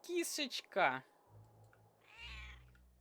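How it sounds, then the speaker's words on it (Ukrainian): Cats meow and yowl in the video game The Cats of Ulthar, several sharp close calls followed by low hums and a softer, drawn-out cry. "чому всі котики кричать?"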